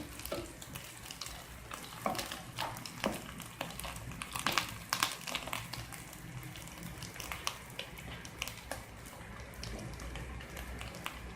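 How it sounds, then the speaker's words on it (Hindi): Chana dal keema with ginger sizzles steadily in a pan while a spoon scrapes and stirs in repeated clattering strokes, close and moderately loud, with no voices. "एक मिनट के लिए इसे फ्राई करना है।"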